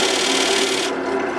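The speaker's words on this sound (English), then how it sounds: "get a little bit of shavings and just burnish the edges off of them" Wood shavings are pressed against the edges of a walnut crotch bowl to burnish them, making a loud, continuous close-up rubbing hiss that keeps up evenly throughout.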